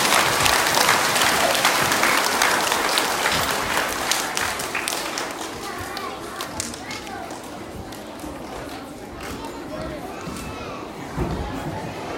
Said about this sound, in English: Let's give them all a big clap and a big round of applause